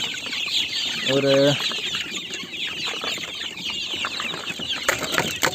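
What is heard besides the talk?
hungry chickens clucking as feed is put out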